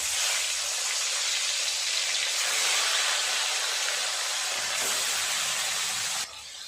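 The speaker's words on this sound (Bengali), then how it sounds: "তেল গরম হয়ে গেছে, এক এক করে মাছ দিয়ে দেবো" Fish sizzling steadily in hot oil in a pan, a continuous loud frying hiss that holds evenly for several seconds before easing slightly at the end.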